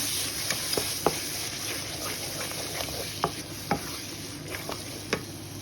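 Chicken pulao ingredients being stirred and mixed in a frying pan: a steady sizzling hiss with scattered scraping clicks of the spoon against the pan, close and moderately loud, with no talking.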